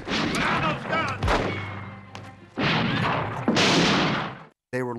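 Gunfire in an old western film comes as a rapid volley of loud, sharp shots and crashes mixed with shouting voices and music, then cuts off abruptly.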